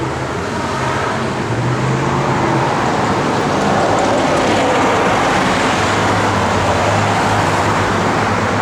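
A 1969 Dodge Dart GT's healthy 340 V8 with J-code ported and polished heads and a 650 Holley dual-feed carburetor runs steadily nearby, a continuous loud rumble with no talk over it.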